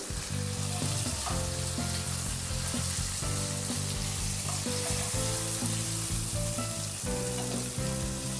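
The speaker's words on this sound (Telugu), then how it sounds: "అయిపోయినాయి చేపలు అయితే ఫ్రై అయ్యాయి ఇప్పుడు తీసేసుకోవాలి" Fish pieces frying in hot oil in a pan, a loud continuous sizzle and crackle with periodic stirring or turning knocks, close and without speech.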